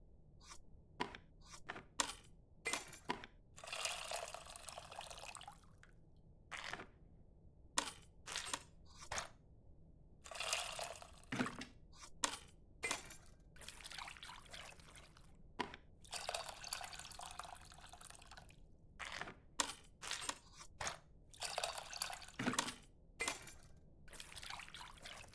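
Tamarind soaked in water drips in the Venba video game, with a long series of distinct close drips, splashes and faint clinks in irregular rhythm over a quiet room tone.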